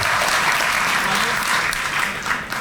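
Steady applause from an audience at a police district community relations awards ceremony, a dense wash of many hands clapping that stays loud and even throughout.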